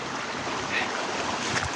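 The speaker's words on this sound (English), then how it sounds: "let's come over here and take a look at where the river is overflowing." River in Chiang Mai, Thailand swollen after two hours of heavy rain, rushing water spilling over its banks in a steady, close, broadband roar.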